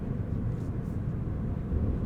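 A Mercedes-Benz C350e plug-in hybrid accelerates in electric mode, heard from inside as a steady low rumble of wind and tyre noise with no engine note, continuous and even throughout.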